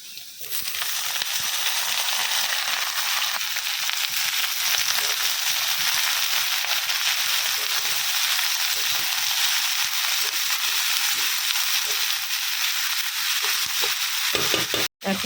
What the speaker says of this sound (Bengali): এখন দিয়ে দেবো হচ্ছে বাঁধাকপি।